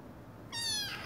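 A stray black kitten gives a single short, clear meow at close range after a moment of quiet room tone.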